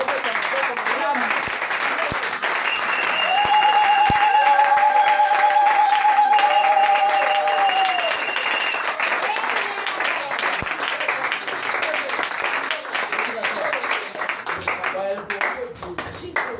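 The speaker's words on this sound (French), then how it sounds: "Une bonne acclamation." A church congregation claps and cheers in a sustained, dense wave of applause lasting the whole stretch, with voices calling out over it and a brief ringing tone midway, fading slightly at the end.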